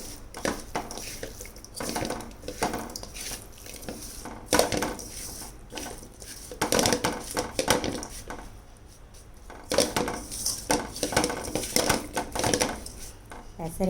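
Dried anchovies being mixed by hand with salt, turmeric, chilli powder and coconut oil, giving repeated moist crunchy rustling and clattering bursts against a bowl, fairly close and steady throughout, with no talk.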